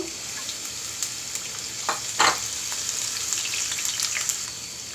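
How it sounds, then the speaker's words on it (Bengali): Chopped onion hits hot oil in a pan for mustard hilsa, giving a steady bright sizzle with a louder crackling burst partway through and faint stirring touches, with no voices. "আমি 1/4 কাপ পরিমাণ পেঁয়াজ কুচি দিয়ে দিচ্ছি এবং পেঁয়াজটাকে খুব ভালো করে একটু ভেজে নেব"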